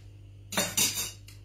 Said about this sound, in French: On va mettre un petit coup de cuillère pour incorporer la ginger beer au reste du cocktail.